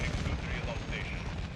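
Continuous heavy gunfire and explosive booms from an airstrike in the video game Modern Warfare 2, a dense, steady rumble of blasts and shots with no gaps throughout.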